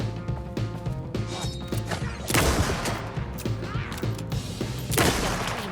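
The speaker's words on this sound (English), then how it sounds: "Let's try the rifle." Rifle shots crack out in Alan Wake II, a few loud heavy blasts spaced a couple of seconds apart over a busy game soundscape of thuds and clatter.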